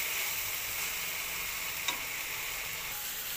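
Water lily stems frying in a pan, giving a steady, even sizzle throughout with a single soft clink of the utensil partway through.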